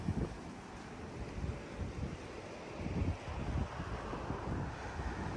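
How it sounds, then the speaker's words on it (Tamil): Strong wind buffeting across an open beach-view terrace at a private beach house on the ECR at Mugaiyur, a steady rushing roar with gusty microphone rumble and no voices. "அப்படியே செம்ம காற்று வரும்"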